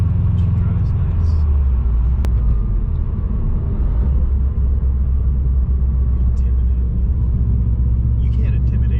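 A 2006 Subaru WRX with a swapped JDM EJ205 engine and cat-back exhaust idles with a deep, throaty exhaust rumble, steady and close, with faint muffled voices now and then.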